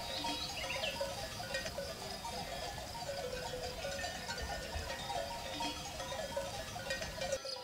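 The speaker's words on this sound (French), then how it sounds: "Un troupeau de moutons de passage, en broutant, libère le sol" A flock of sheep passing and grazing outdoors, with faint scattered bleats and a soft, steady background of rustling and shuffling.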